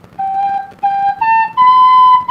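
Tin penny whistle played in a short rising run of sustained, clear notes, each held briefly with small gaps between, ending on the highest pitch, close and alone.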